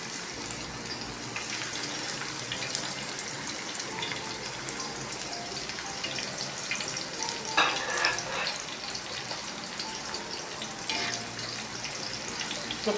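Sliced onions fry in a cup of hot ghee for a haleem tempering, giving a steady, fairly soft sizzle with occasional brief bursts of louder crackling and no talking.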